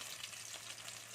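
Ground spice paste frying in hot oil in a pan for a pointed gourd (potol) dish, a steady close sizzle with faint stirring, no voices.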